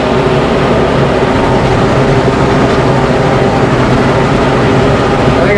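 A tractor engine strains under load while pulling a plow through a field, a loud, continuous heavy low rumble and roar with steady grinding texture and no talk.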